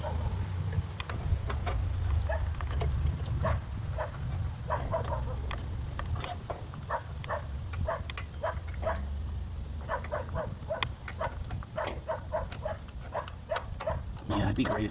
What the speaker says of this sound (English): it'd be great if my dog would stop barking